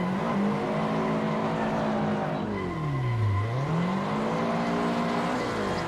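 A Rocket Bunny-kitted Nissan 350Z drifting, its engine droning steadily with a long tire squeal, the pitch dipping and rising again as the car slides, loud and continuous with no talk.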